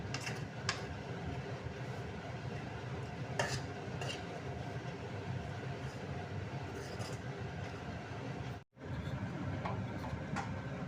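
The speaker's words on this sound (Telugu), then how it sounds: "అన్నీ వేసేసి ఈ విధంగా కలుపుకోవాలన్నమాట" A raw prawn fry mixture is stirred in a pan, giving a steady close scraping and rustling with scattered clinks of utensil on metal and a brief gap near the end.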